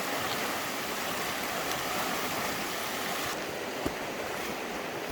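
A small river flows steadily somewhere in rural Russia, a broad constant rush of water with no distinct splashes, moderately quiet and unbroken throughout, with no voices.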